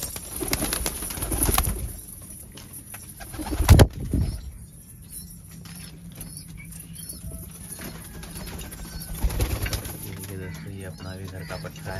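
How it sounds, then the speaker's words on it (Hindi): Domestic pigeons released near a house beside a pond, with soft coos, a sudden burst of wing flapping partway through and low background sound with some talk. "चलिए अब कबूतर खोलते हैं।"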